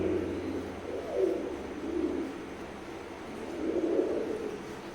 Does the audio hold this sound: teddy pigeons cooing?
yes